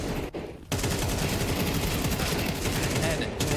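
Gunfire in a Counter-Strike 2 esports match at the EWC 2026 group stage, sustained loud rapid shots with a brief gap near the start, heard under a commentator speaking.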